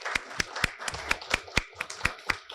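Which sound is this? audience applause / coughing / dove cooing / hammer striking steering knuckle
audience applause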